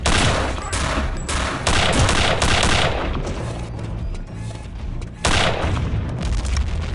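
Loud, sustained gunfire rattles through a boss fight in Return to Castle Wolfenstein, with dense bursts of shots and booming impacts that surge, dip briefly and resume at full force.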